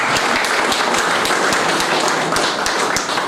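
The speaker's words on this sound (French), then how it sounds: "si on peut l'applaudir." An audience claps together at a Rotary Club handover of football and music equipment for a music school, a steady dense burst of applause filling the room with no voices over it.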